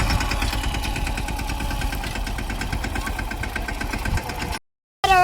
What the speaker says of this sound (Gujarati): તો ટ્રેક્ટર ભરતા આવ્યા છે પાણકાનું.